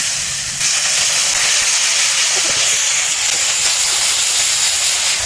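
Water poured into frying spices in a pan, giving a steady loud hiss and sizzle that holds throughout without pause.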